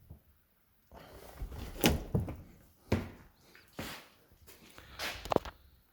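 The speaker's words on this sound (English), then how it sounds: "then you can simply push the roof and it opens itself" A Reimo pop-top roof on a Mercedes Vito van being pushed open and rising on gas struts: a few close, dull knocks and thunks mixed with rustling of the canvas, with no talking.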